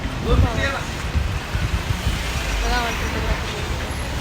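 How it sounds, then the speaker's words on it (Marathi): Strong wind blows outdoors, gusting and rumbling low against the microphone while someone talks over it, with a steady roar beneath her voice. "खूप प्रचंड हवा सुटली आहे"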